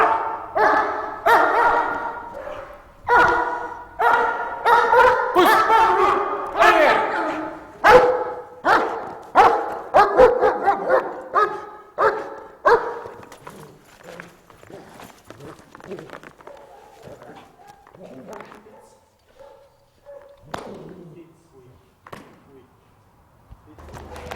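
A dog named Rico barks in rapid, loud bursts at first, then the calls thin into quieter, scattered yelps and whines toward the end, with some human voice mixed in.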